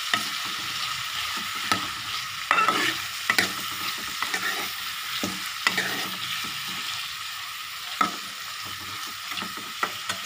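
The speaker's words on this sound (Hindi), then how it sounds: "लहसुन पकने के बाद हम इसके अंदर हमने जो टमाटर काट के रखे थे वो डाल देते हैं, और अच्छे से मिक्स कर देते हैं इसको।" Chopped tomatoes are stirred into frying garlic for a small brinjal curry, giving a steady close sizzle broken by repeated scraping strokes of a spoon against the pan, with no talk.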